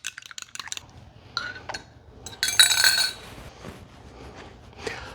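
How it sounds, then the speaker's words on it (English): A small fork whisks eggs with brown sugar, pumpkin pie spice and salt in a bowl, making quick, irregular metallic clinks and taps up close, with short bursts and pauses. "I'm gonna whisk up real quick here with a little fork."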